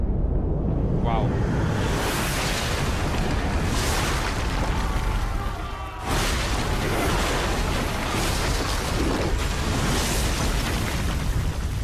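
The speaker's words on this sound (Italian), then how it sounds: "Wow, piccole esplosioni." Small explosions go off in the 2014 stealth video game Thief, heard as a run of loud, crackling bursts and booms over a dense, noisy game soundscape lasting several seconds.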